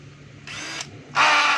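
A Stanley 18V cordless drill runs in hammer mode in two bursts, the second louder and harsher, both close and alone with no talk over them.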